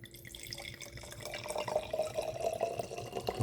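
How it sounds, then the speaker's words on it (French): Whisky pours steadily into a container, a soft gurgling trickle that grows slightly fuller, close and quiet. "Je vais commencer par mettre le whisky."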